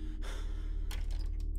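Labored, heavy breathing from a character in the horror video game MADiSON, two drawn breaths in close succession over a steady low hum, near and fairly quiet.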